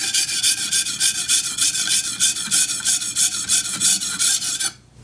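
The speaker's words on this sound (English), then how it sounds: "This stone feels like it's pretty coarse. Sounds pretty coarse too." A chef's knife is stroked across a coarse whetstone in a quick, even rhythm of gritty rasping passes, close and loud, before stopping abruptly near the end.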